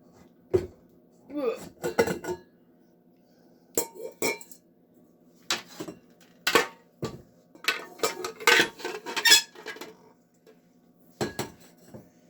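KitchenAid stand mixer bowl being lifted out and handled, with a series of close, sharp metallic clanks and knocks in irregular bursts, plus a few brief rattles between quieter pauses.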